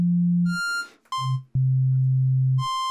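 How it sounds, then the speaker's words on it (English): Novation Peak synthesizer sounding a custom hand-drawn square-wave wavetable: a few sustained buzzy tones with bright harmonics, separated by short gaps and a brief noisy burst, loud and close with no talking. "you can hear that all the way over here in the left position, in the wavetable one position, we have like a complicated square wave"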